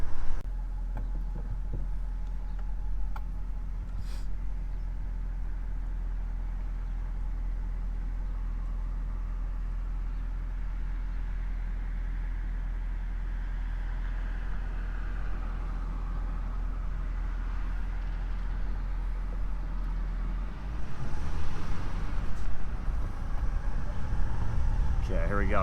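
A salvaged Nissan Titan XD pickup drives on city streets with no fender, front bumper or headlight and a badly off alignment, its steady low engine and road rumble filling the cabin, the engine surging louder near the end.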